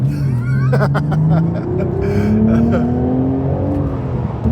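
A 2026 BMW Z4 M40i with a manual gearbox pulls hard in second gear, its engine note climbing steadily and close by, while people's voices rise over it.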